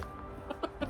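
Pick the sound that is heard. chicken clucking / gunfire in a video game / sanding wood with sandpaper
chicken clucking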